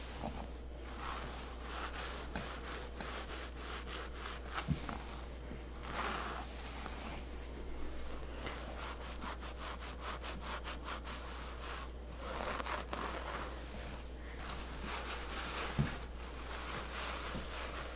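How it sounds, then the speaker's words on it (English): Hands rub essential oil into skin during an ASMR spa massage: soft, close, steady brushing strokes that repeat continuously with small swells in level, heard alone without talk. "I'm gonna rub in that essential oil, okay?"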